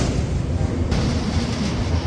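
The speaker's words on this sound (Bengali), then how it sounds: "আমাদের ট্রেন কিন্তু এবার কোলাঘাট স্টেশনে ঢুকবে" Inside a Howrah–Digha local train running towards Kolaghat station, a continuous heavy rumble of wheels and carriage carries on with a broadband roar that shifts slightly partway, loud and close, with no talking.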